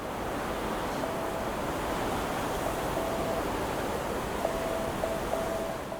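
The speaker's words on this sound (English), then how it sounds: "If you drive up closely to these radar dome thingies and listen carefully, you can actually hear a Morse code message." A faint Morse code message beeps near radar domes in the War Thunder video game: short and long tone pulses in scattered groups, nearly buried beneath a constant, loud wind-like rush.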